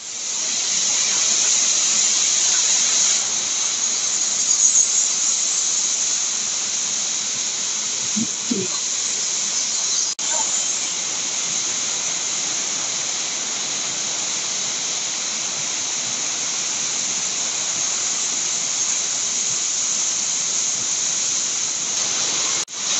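Ludu Waterfall in Kandhamal, Odisha, gives a steady, loud rushing hiss of falling water throughout, unbroken and close, with no clear talking.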